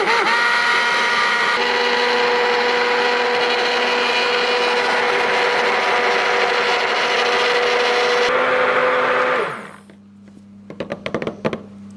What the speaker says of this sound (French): Et ensuite je mixe le tout pour bien homogénéiser.